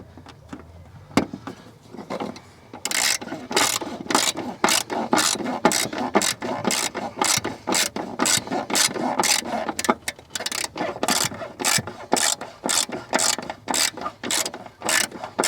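Ratchet tightening a Mazda MX5 battery clamp, a rapid series of close, sharp clicks in a steady back-and-forth rhythm lasting over ten seconds.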